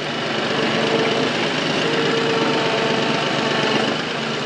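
A tractor engine used for handling round bales drones steadily and loudly up close, a constant low rumble with no change in pace and no talking.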